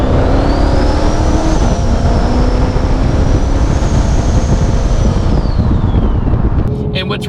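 A 1200 HP twin-turbo Shelby GT500 accelerates hard, a loud roaring engine note climbing through the gears with a rising turbo whine and heavy wind buffeting, close and continuous throughout.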